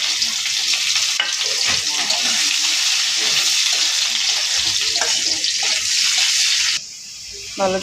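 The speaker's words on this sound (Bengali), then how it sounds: "পেঁয়াজ লাল লাল করে ভাজা নিতেছে" Chopped onions fry loudly with cumin in hot oil, a dense continuous sizzle with intermittent stirring clatter, dropping quieter in the last second.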